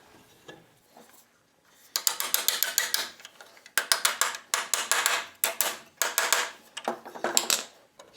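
A brace bolted in place on a Yellowstone Park stagecoach in a coach shop, with rapid metallic ratcheting clicks in several close bursts after a quiet start.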